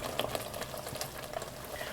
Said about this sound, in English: Oh, there's the big boiling.